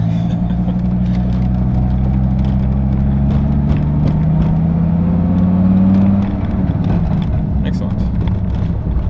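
Dodge Viper with a manual transmission, its engine held at a steady, loud, low drone under light throttle from inside the car, rising slightly in pitch before settling back down.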